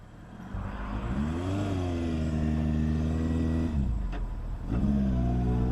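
A motorcycle accelerates hard to pass a mail truck at night, its engine note rising through revs, dipping briefly at a shift, then climbing again, loud and continuous close by.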